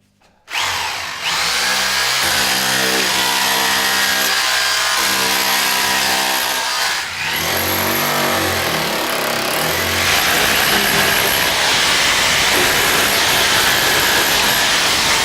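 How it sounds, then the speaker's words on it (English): A Ryobi 3-mode SDS hammer drill runs loud and close, first spinning with a steady whine, then briefly pausing before continuing in a harsher, rattling hammer-drilling mode that grows noisier toward the end. "Drilling, hammer drilling and chiselling."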